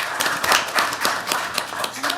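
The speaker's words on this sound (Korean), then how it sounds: "여러분 박수 한번 보내주십시오." An audience at a National Assembly ESG talk concert in Korea breaks into steady applause, many hands clapping at once in a dense, lively burst with a faint cheer mixed in.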